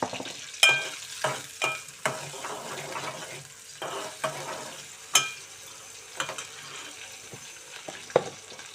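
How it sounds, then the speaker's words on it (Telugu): Brinjal (eggplant) pieces frying in a pan until slightly softened: a low sizzle broken by repeated sharp scraping and clinking stirs every second or so, close up, with no voices. "కొద్దిగా ముక్క మెత్తబడేంత వరకు మనం కొద్దిగా వేయించుకున్నామండి."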